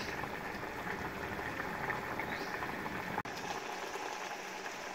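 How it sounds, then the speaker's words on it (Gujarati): Water boiling in a pot with papad pieces, a steady, quiet bubbling hiss that runs throughout with a brief dropout just past three seconds. "તો આપણું પાણી બરાબર ઉકળવા લાગ્યું છે।"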